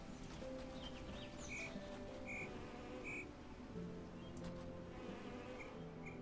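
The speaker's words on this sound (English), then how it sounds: "I hear bees. There's a bee." Bees buzz in a video game: a low insect drone hums steadily beneath short chirping tones and game sound effects, with no one talking.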